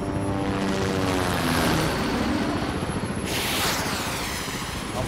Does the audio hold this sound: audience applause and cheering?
no